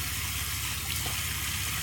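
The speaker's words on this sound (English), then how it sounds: "Give that a rinse there underneath the tap." Tap water runs steadily into a sink while a makeup brush is rinsed underneath, a constant close hiss with no talking.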